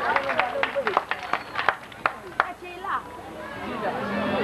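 A crowd at a community Christmas event breaks into scattered, sharp claps in an uneven burst that thins into a softer, denser patter, with talking heard over it.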